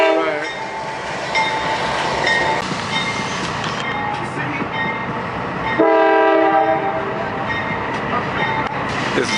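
A big freight train passes in Valdosta, Georgia. Its loud, steady rumble and rattling wagons carry through, with repeated horn blasts sounding over the passing cars.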